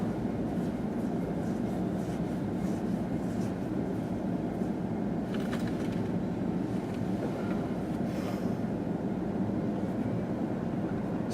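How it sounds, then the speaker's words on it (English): A CSX Q130 freight train led by an AC4400CW locomotive rumbles past at a distance, a faint continuous low roar with wind noise and no clear horn. "And Csx AC 4400 CW number 107. As they will lead in the Csx Q130."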